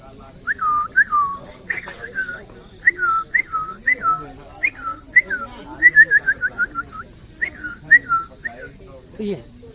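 A person whistles a series of rising, chattering bird-like calls in quick bursts, mimicking a laughing bird, over a steady high electronic tone.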